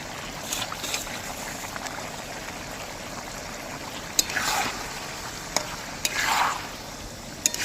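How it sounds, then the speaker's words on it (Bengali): Fried pakoras being stirred into a sizzling masala in a pan while cooking village-style chili chicken, a steady soft sizzle with a few scraping stirs and clinks of the spoon, no talk. "মশলাটা ফুটে উঠেছে এবার আমি ভাজা পকোড়াগুলো দিয়ে দেবো"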